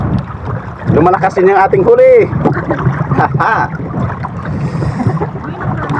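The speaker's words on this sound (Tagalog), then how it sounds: "Malakas-lakas yung hangin" Strong wind buffets the microphone outdoors on a boat at sea, roaring and gusting under someone talking and laughing close by.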